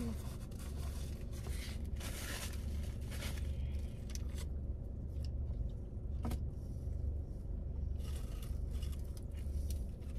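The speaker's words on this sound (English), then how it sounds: "Like, there's always cars here." Traffic at a busy Taco Bell, cars rolling past at moderate distance in a continuous wash of tire and engine noise, with a few brighter swishes of passing vehicles over a low steady rumble.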